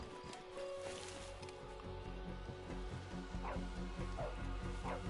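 Dog barking in Assassin's Creed Origins, a few short yips and barks heard moderately close over a steady low ambient rumble and rustling.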